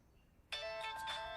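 A mobile phone ringtone starts suddenly and loudly, a bright electronic melody of steady tones that continues without pause, with no talking over it, in a tense Hindi-language film scene.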